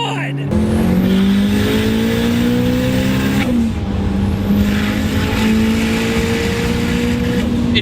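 A 600HP Toyota RAV4 fitted with a 3S-GTE engine accelerates hard, its smooth engine note climbing through gears with a brief shift dip partway, loud and close inside the car.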